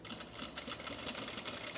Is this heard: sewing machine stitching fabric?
yes